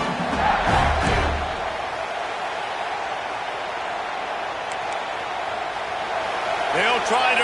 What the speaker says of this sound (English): They'll try to quiet this crowd